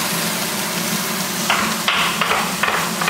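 Carrots, celery and onions are tossed into a roasting pan, a few quick clattering thumps and rustles that ride over a steady background hiss.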